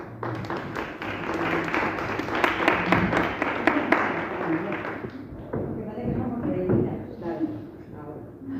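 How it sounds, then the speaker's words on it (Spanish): Audience at a literary café event applauding a writer, a few seconds of clapping that fades as a voice starts speaking. "Un aplauso."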